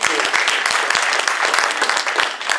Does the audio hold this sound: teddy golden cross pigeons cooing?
no